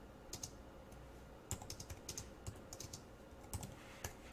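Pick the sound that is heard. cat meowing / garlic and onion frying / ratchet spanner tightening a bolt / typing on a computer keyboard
typing on a computer keyboard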